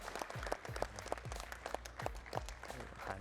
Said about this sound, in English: A big round of applause to the entire team,